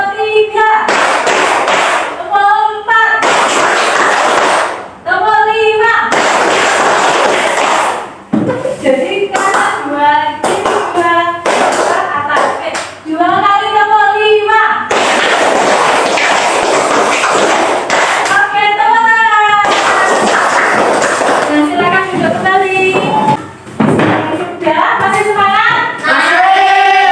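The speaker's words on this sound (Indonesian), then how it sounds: "Kita melakukan tepuk-tepuk." A group claps hands in rhythmic counted patterns during a classroom ice-breaking game, with sharp bursts of clapping mixed in among loud voices calling and chanting throughout.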